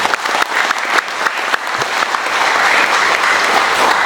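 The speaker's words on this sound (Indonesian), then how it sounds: "Tepuk tangan buat kita semua." A room full of people breaks into loud, sustained applause, clapping steadily and swelling slightly toward the end.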